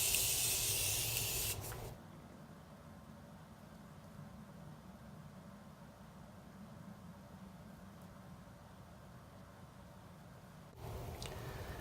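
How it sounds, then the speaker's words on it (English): Makeup setting spray from a pump bottle mists onto a face: a loud hiss lasting about two seconds, a long near-silent pause, then a second short burst at the end. "let me do a little setting spray on this side,"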